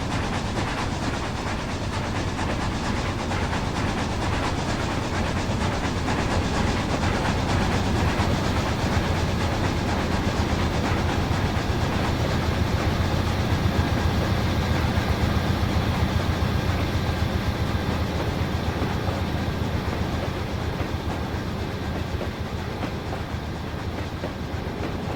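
Union Pacific Big Boy 4014 steam locomotive and its train roll past with a heavy, continuous rumble and rhythmic wheel clatter that stays loud for the whole stretch, with no voices.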